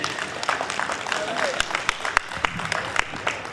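Convention audience applauding Dr. Claire Iheanacho at a gathering in Charlotte, North Carolina: a dense, steady round of clapping with a few sharper claps and faint voices underneath.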